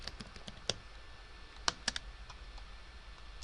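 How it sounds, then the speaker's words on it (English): Notes are typed on a computer keyboard in a quiet room. The keystrokes come as an uneven run of light taps with a few sharper, louder clicks, heard close up with no voices. "here I'm going to pause it and type in my notes."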